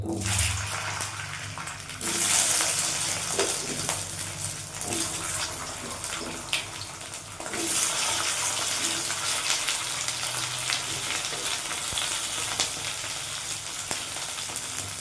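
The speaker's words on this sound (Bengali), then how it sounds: "কড়াইতে অল্প করে সর্ষের তেল দিয়ে দিলাম এই তেলের মধ্যে এই কাটি কচুগুলো দিয়ে দেবো" Cut pieces of taro drop into a little mustard oil in a kadai wok and fry with a loud, continuous hissing sizzle that swells and settles, close up and with no one talking.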